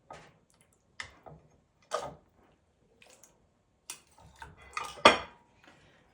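A knife cutting jello squares on a dish: scattered sharp clinks and scrapes of metal against the dish, a few separate taps with quiet gaps, then a cluster of louder knocks near the end.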